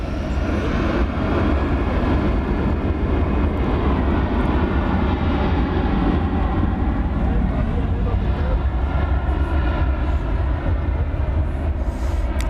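A large airliner takes off at night at DFW Airport, its jet engines roaring loud and steady at close range for the full stretch, a broad sustained rumble with no talk over it.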